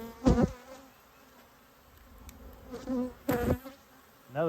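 Honeybees buzz around an opened hive during a cloudy-day inspection, with a few loud close passes near the ear rising and fading over a soft background hum.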